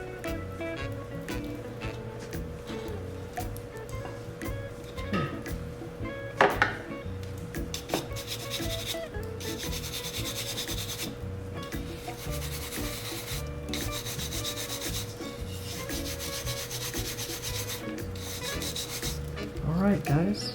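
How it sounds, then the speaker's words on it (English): A wood carving gouge scrapes and shaves at a carved Santa Claus face in steady, rapid rubbing strokes, close and continuous, with occasional sharper knocks of the tool against the wood. "Let's go back with the gouge. Clean that up a little bit."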